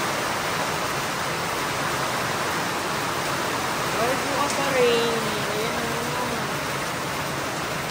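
Heavy rain hisses steadily in a dense wash of noise, with a brief high whistle-like tone and people speaking faintly in Filipino over it.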